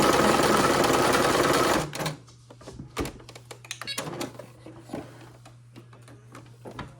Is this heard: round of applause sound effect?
no